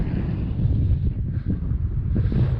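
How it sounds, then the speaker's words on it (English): Strong wind blows on a mountain trail by a lake in Glacier National Park, a loud, steady buffeting rumble hitting the microphone for a few seconds, with no voices. "That wind is kicking."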